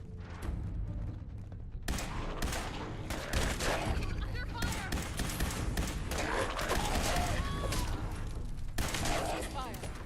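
Video game gunfire, rapid bursts of shots and clattering volleys kicking in after a quiet opening, dense and loud with scattered effects and a voice occasionally under the shooting.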